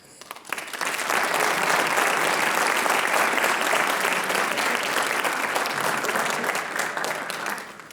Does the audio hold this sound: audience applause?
yes